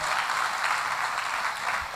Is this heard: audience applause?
yes